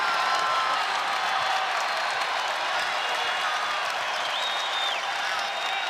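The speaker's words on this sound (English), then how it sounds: "The crowd is loving it." A basketball arena crowd at a Morehead State versus Louisville men's game applauds and cheers in a dense, sustained roar with whistles rising over it, loud and unbroken throughout.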